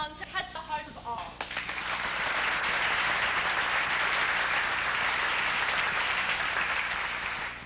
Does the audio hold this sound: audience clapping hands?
yes